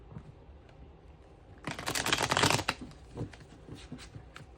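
Lightseers Pocket Tarot cards are shuffled in one quick riffle, a crisp, close flurry of flicking card edges lasting about a second, followed by a few lighter taps and rustles in a quiet room.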